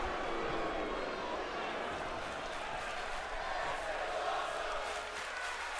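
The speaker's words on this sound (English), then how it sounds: "a portion of our crowd is chanting, "This is awesome,"" A wrestling crowd chants and roars in an arena, a dense sustained wash of many voices at steady volume.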